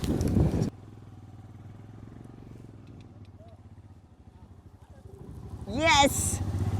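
A motorcycle rides along a road with a steady low engine drone throughout, loud and close, swelling at the start and again near the end where a voice rises above it.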